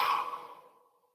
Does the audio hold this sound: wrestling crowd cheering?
no